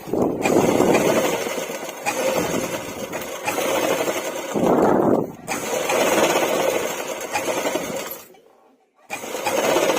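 A sewing machine stitches torn cloth laid over a canvas backing, its steady mechanical whir running in repeated bursts with brief pauses between runs.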